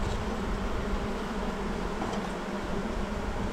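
Honey bees hum steadily at an open hive on a warm day, a dense, continuous buzz close by with no voices.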